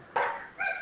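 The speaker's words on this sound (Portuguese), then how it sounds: "Ó, o cachorro" A dog barks twice nearby, a sharp, loud first bark followed by a shorter, softer second one.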